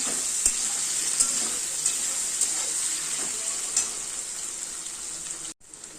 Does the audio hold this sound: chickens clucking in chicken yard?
no